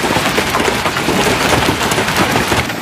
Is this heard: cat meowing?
no